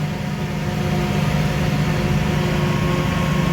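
A forage chopper pulled by a tractor chops corn silage, a loud, steady mechanical drone with a heavy low rumble and constant whirring hum, close and uninterrupted.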